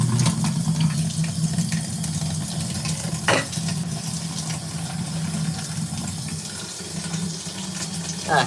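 Cold tap water runs steadily while fur is rinsed out of a washing machine filter, a continuous splashing hiss with a low hum beneath and a brief clatter partway through.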